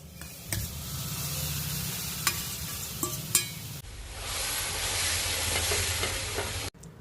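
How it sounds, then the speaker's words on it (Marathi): Mashed bananas sautéed and stirred in a pan for a modak filling: close scraping stir strokes with sharp clicks over a low sizzle, then a steadier, louder frying hiss that cuts off abruptly near the end. "आपण आता ही मॅश केलेली केळी परतून घेणार आहोत"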